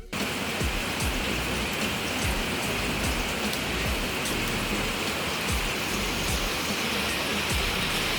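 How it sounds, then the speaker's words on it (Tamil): Heavy rain pours steadily and loudly at a lakeside setting, a dense unbroken hiss of drops that runs the whole time with no voices. "மழை பெஞ்சிட்ருக்கு."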